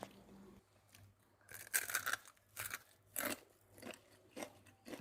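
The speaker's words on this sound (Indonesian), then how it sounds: "Kriuknya itu benar-benar crispy tapi tidak keras." Crispy fried chicken (ayam geprek) bitten and chewed close to the mic, with several loud crunchy bites spaced out over a few seconds and a faint low hum underneath.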